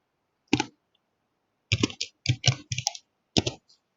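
Computer keys are tapped in short, separate clusters against silence: one lone keystroke, then a run of quick clicks and a final pair, crisp and close with no voices.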